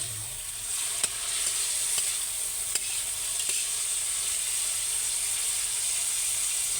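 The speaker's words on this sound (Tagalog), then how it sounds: "Ilagay na rin natin itong tokwa guys. Hali-haliin." Tofu (tokwa) stirred and frying in a pan for kangkong, a steady close sizzle with hiss and a few sharp utensil clicks against the pan, no talking.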